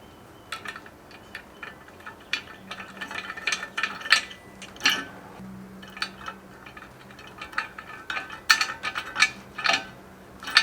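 Socket wrench ratcheting as 13 mm nuts are snugged down on a Diamondback truck bed cover rack, a series of quick close clicking bursts with brief metallic clanks and pauses between them.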